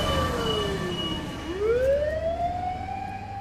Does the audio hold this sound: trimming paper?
no